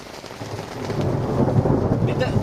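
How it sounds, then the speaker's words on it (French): A thunderstorm during an outdoor camping session rumbles with a building roll of thunder over steady heavy rain pattering on surfaces, loud and continuous throughout. "Mais là les éclairs."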